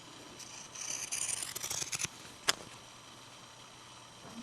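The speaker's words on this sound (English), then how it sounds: "now I'm just going to cut the edge pretty close to that extra line of stitching with some pinking shears" Pinking shears snip along a fabric seam edge close to a line of stitching, a quiet run of crisp, rapid cuts followed by one sharp snip and then near silence.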